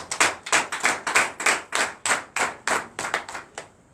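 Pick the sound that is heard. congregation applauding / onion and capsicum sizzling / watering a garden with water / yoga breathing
congregation applauding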